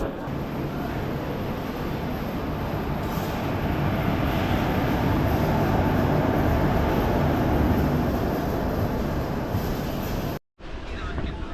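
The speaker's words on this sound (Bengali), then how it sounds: "ফাইনালি তিস্তা তিস্তা এক্সপ্রেস তিন নম্বর প্ল্যাটফর্মে আসছে" A Teesta Torsa Express train comes into platform three at a railway junction with a steady, loud, continuous rumble of wheels and carriages that fills the scene before cutting off abruptly near the end.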